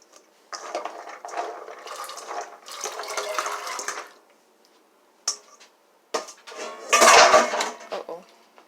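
Washed chickpeas tip and splash into a pot of water in a few bursts of pouring and sloshing, with clinks of a pot or utensil between quiet gaps.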